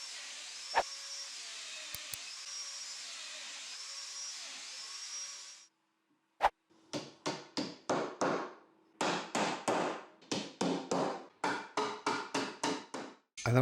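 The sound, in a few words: adding 8mm wooden dominoes to align table boards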